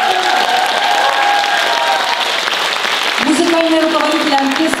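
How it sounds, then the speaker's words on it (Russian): An audience claps and cheers loudly and continuously for the Kalmyk state song and dance ensemble at a stage performance, a dense wash of applause with sustained tones running underneath. "Ваши аплодисменты, дорогие зрители."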